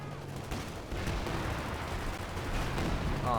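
A howitzer shell strikes in the World War II strategy game Company of Heroes 2, a dense, booming impact rumble that keeps rolling and swelling toward the end.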